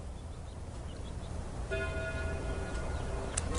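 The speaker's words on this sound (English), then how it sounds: "At that moment, the church bells began to ring." Church bells begin ringing partway through, clear sustained tones rising over a steady windy rumble at a moderate distance.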